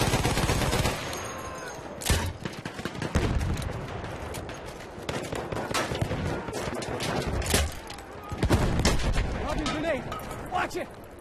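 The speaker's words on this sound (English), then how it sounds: "Enemy machine gun over there!" Bursts of machine gun fire and a heavy fusillade ring out in a Battlefield 1 multiplayer fight, loud rapid volleys recurring over several seconds among distant battle noise.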